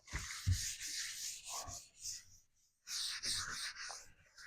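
Soft rubbing and wiping strokes clearing sanding dust off walnut wood, in uneven bursts with a brief pause midway.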